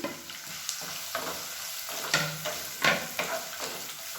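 Finely chopped large onions, two handfuls, sizzling and frying in hot oil in a pan for a breakfast egg curry, with steady crackle and occasional stirring scrapes close up.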